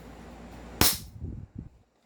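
A single sharp crack from a fine-tuned airsoft CZ Shadow 2 pistol with a trigger job, firing at about 400 FPS, close and loud, followed by faint handling clatter.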